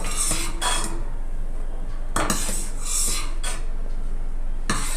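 Milk stirred in a pot to make kulfi, a spoon scraping and clinking against the metal in several separate strokes over a steady background rush, close and with no voices.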